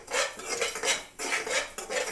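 Cumin, fenugreek and mustard seeds are dry-roasted in a pan, with bright rhythmic scraping and rattling as they are stirred in repeated strokes, close and clear with no talking.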